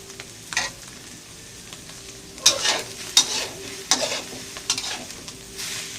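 Eggs stir-fried with preserved radish in a pan, a low steady sizzle broken by a few sharp scraping spatula strokes against the metal, close by with no talk.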